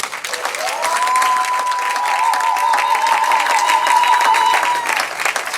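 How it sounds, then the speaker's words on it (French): Wedding guests applaud the couple during the ceremony, a steady, loud wash of clapping that lasts throughout, with a faint sustained tone running above it. "On va l'applaudir bien."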